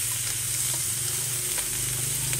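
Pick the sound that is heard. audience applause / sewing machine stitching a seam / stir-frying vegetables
stir-frying vegetables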